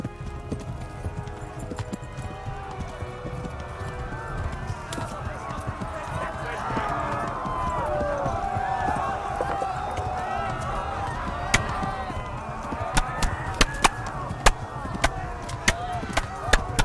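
Horse hooves clip-clop in the medieval role-playing game Kingdom Come: Deliverance, a steady galloping rhythm that grows busier toward the end, mixed with in-game music and ambience while someone talks over it.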